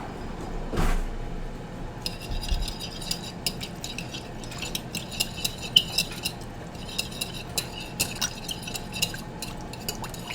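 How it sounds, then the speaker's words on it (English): Whisk scraping and clinking steadily against a bowl while sesame salad dressing is mixed, a quick rhythmic patter of metal on the bowl's sides with a soft liquid slosh, close and fairly quiet, and no talking. "let's whisk this up"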